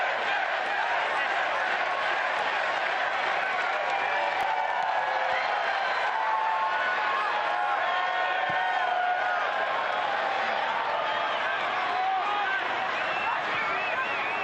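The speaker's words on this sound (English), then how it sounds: "This crowd right now is absolutely ruckus. And does this team deserve it? They deserve the applause." Stadium crowd noise at a Tampa Bay Rowdies versus Pittsburgh Riverhounds soccer match, a steady, loud roar of cheering and applause from the stands, continuous throughout, with background voices mixed in.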